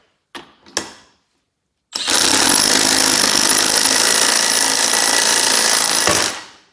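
A stubby air impact wrench hammers at a Teflon-wrapped bolt on a golf cart engine. Two short clicks come first, then one loud, continuous, close-up rattling burst that lasts about four seconds before it cuts off.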